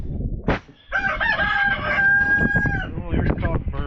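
A rooster crows once, loud and close, a long drawn-out call with some clucking and scuffling around it in a chicken coop during egg collecting.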